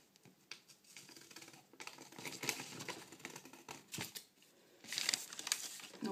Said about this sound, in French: vous allez prendre une paire de ciseaux et vous allez couper le carré